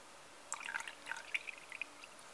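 Excess soaking water is poured off pepper seeds resting on damp cotton pads, giving a quiet, brief run of small trickles and drips, close and faint, with no speech.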